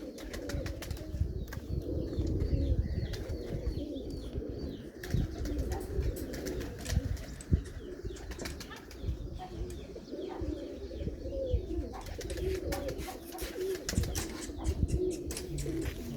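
Pigeons coo in soft repeated rolling calls at a breeders' loft, with scattered chirps and faint wing flutters, fairly close but quiet, and occasional low voices in the background.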